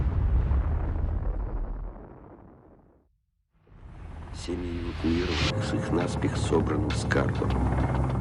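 A huge nuclear bomb detonation roars in a heavy, rumbling blast that fades into near silence, then surges back with a loud, churning roar and rolling rumble, with clanking and tonal mechanical sounds layered over it.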